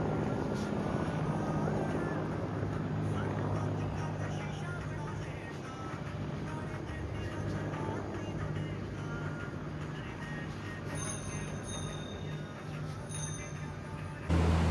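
A helicopter's steady rotor thrum hangs in the air overhead, fairly faint and continuous, under a mixed outdoor background with voices present.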